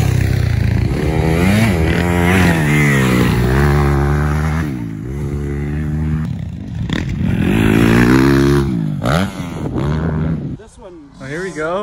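A motocross dirt bike on a short track in Clinton, Wisconsin, mostly in first and second gear, its engine loud and close as it revs up and down repeatedly, with a brief lull and a voice speaking near the end.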